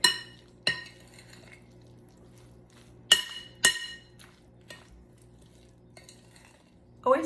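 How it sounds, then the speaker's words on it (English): Utensil clinks and scrapes in a bowl as Frito corn salad is stirred with dressing, a few sharp clinks spaced out over quiet background, loudest near the start and middle. "So give it a good stir and make sure everything is covered in that dressing."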